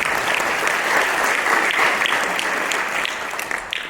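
Steady, dense audience applause at a winter concert at St Thomas, sustained and fairly close for the whole stretch with no talking over it.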